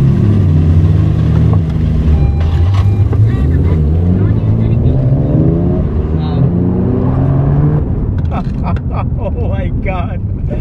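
A 1995 Nissan Skyline GT-R R33 with an aftermarket clutch being driven, its engine droning and rising through revs, loud and close, with a person talking over it.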